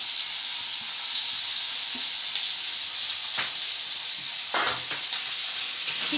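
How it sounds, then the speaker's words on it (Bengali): Washed, unmarinated chicken pieces hit a hot pan and sizzle with a loud, steady hiss, a few stirring scrapes cutting through near the end, no voices. "চিকেনটা দিয়ে দিচ্ছি"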